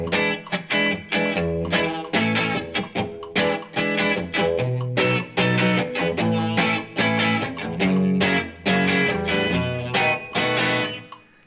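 Guitar playing a verse of a song at about 151 beats per minute, strummed chords in a steady driving rhythm with short muted gaps between bursts, loud and close, with no voice.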